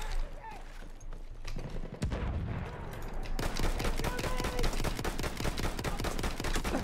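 Battlefield 1 gunfire: sparse scattered shots at first, then rapid sustained automatic fire with a fast, even rhythm of sharp cracks, loud and close, with quieter background rumble underneath.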